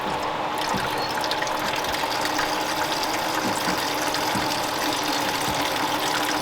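Coolant drains from the top of a freshly rebuilt Suzuki LTZ 400 ATV motor during radiator work, a steady continuous watery rush and trickle with faint mechanical clicking, close and unbroken throughout.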